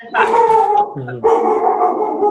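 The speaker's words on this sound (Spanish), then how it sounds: "esto que escucháis es mi perro" A pet dog barks and howls indoors during a conversation, two loud, drawn-out calls with a brief dip between them, close to the microphone.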